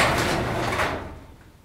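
A garage door on a Chamberlain opener rolls down and closes with a broad, loud sliding rumble that fades out near the end, heard alone without talk.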